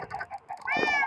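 A cat meows in the Minecraft video game, one clear, rising meow that is loud and close, after a short stretch of softer background sound.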